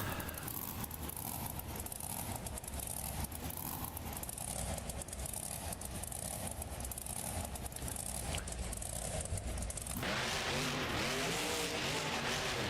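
The Bounty Hunter monster truck engine roars at the Baltimore stop of a Monster Jam arena event in BeamNG, a loud sustained drone that abruptly shifts into a rougher, rising throttle burst near the end.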